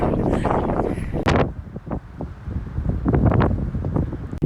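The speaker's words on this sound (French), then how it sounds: "Et il y a beaucoup de vent." Strong wind buffets the microphone high on Mount Batur volcano in Bali, a steady roaring rush with gusty bursts throughout, close and loud.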